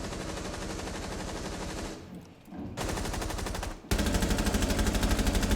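Rapid automatic gunfire from a Rainbow Six Siege match: loud close bursts with a short pause, then renewed fire in a steady pulsing rhythm.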